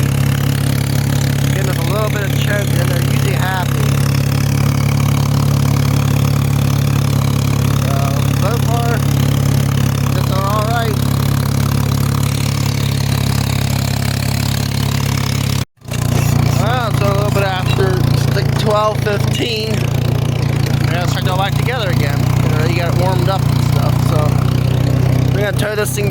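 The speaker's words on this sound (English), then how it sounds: "Three cylinders are very fussy. Give them a little bit of choke and they're usually happy." A three-cylinder Ford 3000 tractor engine runs on choke with a steady, loud, low rumble close by, dropping out for an instant before picking straight back up and carrying on unbroken.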